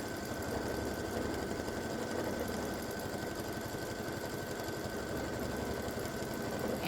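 A quilting machine stitches an edge-to-edge double loop design, giving off a steady, faint mechanical whir and hum that runs unbroken throughout with no talking.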